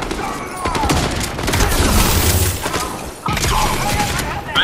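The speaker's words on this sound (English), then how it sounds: "Why they shooting at me?" Gunfire in the video game Fortnite, a dense fusillade of shots rattling continuously over several seconds, loud and close, with a brief gap before another burst of firing.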